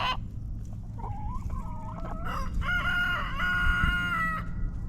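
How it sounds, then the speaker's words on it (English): A rooster crows repeatedly on a farm among other fowl, its harmonic calls rising and falling over a steady low rumble of background noise, fairly close and loud. "There's a rooster right there."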